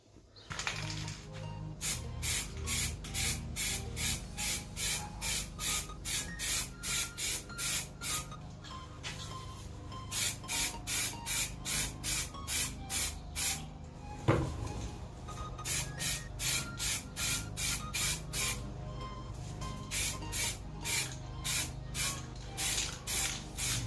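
Aerosol spray can painting the spokes of a motorcycle wheel in matte black, heard as repeated short hissing bursts in steady rhythm, close and fairly loud, with a brief knock partway through and no talk.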